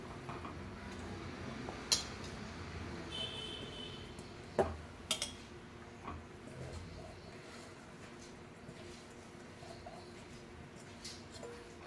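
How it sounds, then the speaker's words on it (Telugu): A spoon stirring sweet potato paste in a pan, heard as scattered metallic clinks and scrapes at irregular intervals against a quiet kitchen background. "మొత్తం కలిసేటట్టు అయితే కలిపేసుకోవాలి."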